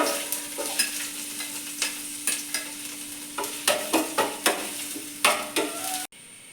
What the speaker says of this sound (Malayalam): അതിലേക്ക് നമ്മളെടുത്ത് വെച്ചിരിക്കുന്ന ചുവന്നുള്ളി പിന്നെ കറിവേപ്പിലയാണ് ഇട്ട് കൊടുക്കുന്നത്.